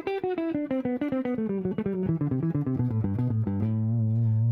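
Electric shred guitar plays a fast descending lick using downstroke escape picking, a rapid string of clean, evenly picked notes stepping down in pitch before settling on a sustained lower note, heard alone.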